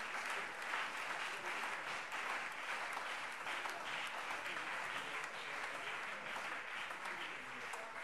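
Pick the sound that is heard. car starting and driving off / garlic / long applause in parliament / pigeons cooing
long applause in parliament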